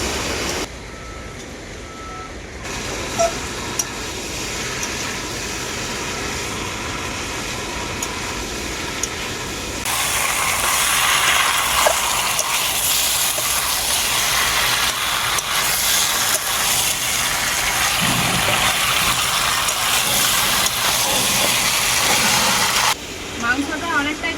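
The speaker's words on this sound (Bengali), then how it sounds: "এই মাংসটাকে আমি এখন খুব ভালোভাবে কষাতেই থাকবো" Goat meat stir-fries steadily in oil in a pan, a broad continuous sizzle that jumps louder partway through and runs on without pause. No one speaks.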